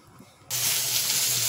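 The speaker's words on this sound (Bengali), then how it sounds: "কড়া গরম হয়ে গেছে। কড়াতে দেবো তেল" Oil meets a hot kadai with a sudden loud hiss partway in, then a steady, even sizzle. Before that the pan is almost quiet.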